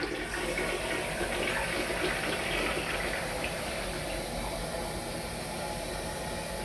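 Water rushes steadily and loudly from an interior sink or toilet that drains poorly, a broad continuous wash with no speech over it.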